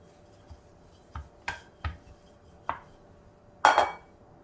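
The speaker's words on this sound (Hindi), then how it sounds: "ये हल्के हल्के से निशान बना रही हूँ चाकू से" A knife lightly scoring marks into Sindhi masala koki dough: a handful of soft, separate taps and short scrapes at irregular intervals over a quiet background, with a slightly longer, louder scrape at the end.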